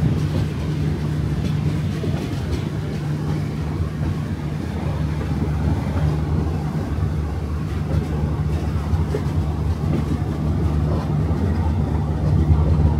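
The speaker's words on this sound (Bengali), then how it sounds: "আমাদের ট্রেন ছেড়ে দিল নিউ করিমগঞ্জ জংশন" The Garib Rath Express pulling out of New Karimganj Junction, a continuous loud rumble of rolling wheels and carriage noise with a steady low hum, heard from inside the train.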